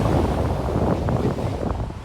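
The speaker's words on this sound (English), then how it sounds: "Windy." Strong wind buffets the microphone on an overcast, cold day at a coastal state beach with tide pools, a steady loud roar with gusty rumble and possible surf underneath, no talking.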